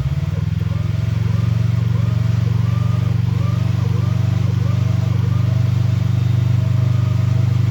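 A side-by-side's engine drones steadily at high revs while its wheels spin for grip in creek mud as it tries to pull a Jeep, with someone talking over the constant roar.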